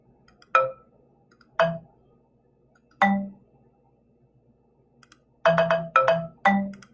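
A happy melody built in Google Song Maker, bright chime-like synthetic notes plinking singly at first, then a quick cluster of notes near the end, clean and fairly quiet with silence between.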